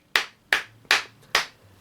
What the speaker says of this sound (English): 5 out of 5 claps.